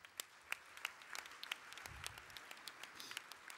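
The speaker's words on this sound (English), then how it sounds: "give him a quick round of applause" A modest round of applause at a tribute dinner for Easter Seals in Central Illinois, scattered distinct claps from a smallish audience, fairly quiet and sparse rather than a thick roar.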